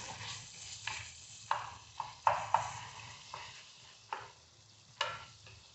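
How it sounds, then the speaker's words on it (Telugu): Tomatoes frying soft in a pan with dried coconut for a chicken curry paste, heard as a steady series of spatula scrapes and stirring strokes over a faint, low sizzle, with no talking. "టమాటాలు మెత్తబడేదాకా వేపుకోండి"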